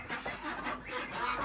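Chickens cluck on a hillside farm in Vietnam, a steady murmur of fowl calls that stays continuous and moderately close, with no talk.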